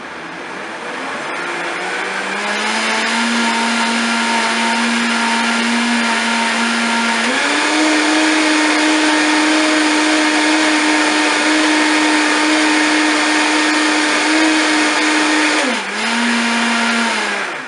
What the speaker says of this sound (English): And then I'll just blend it.